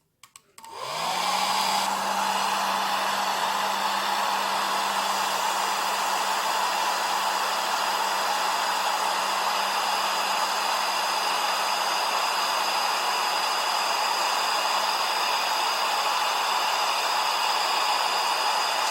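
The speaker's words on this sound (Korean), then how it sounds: "드라이기로 건조." A hair dryer switches on and blows steadily to dry a silver clay ring, a loud, continuous whooshing roar with a constant motor whine that runs unchanged after a brief startup.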